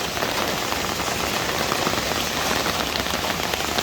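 Steady rain drums on the roof of a chicken coop, a dense, even patter that holds without pause, close and fairly loud with no voices.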